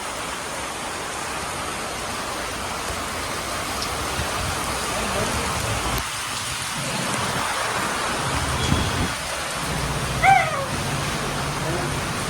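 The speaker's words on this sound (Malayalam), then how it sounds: "അപ്പുറത്ത് മഴയാണ്" Heavy rain pours steadily as a dense broadband hiss throughout, with a couple of brief louder spots near the end and possible faint voices mixed into the wash.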